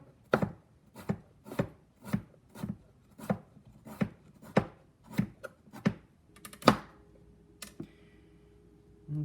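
A dull kitchen knife chops carrot on a board, making about a dozen crisp, close cuts in a steady rhythm, with short pauses near the end and no talking.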